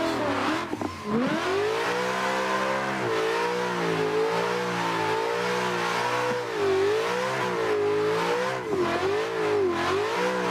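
A Ford Mustang drifting on a backwoods track in Assetto Corsa gives a continuous close engine drone, its pitch rising and falling with each rev as the car slides through the corners.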